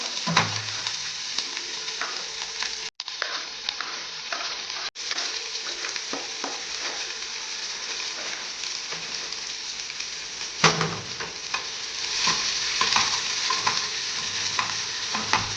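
Chopped onion roasts with cumin in a pan over medium gas, giving a soft, steady sizzle with scraping stirring strokes and brief pauses, close and fairly quiet.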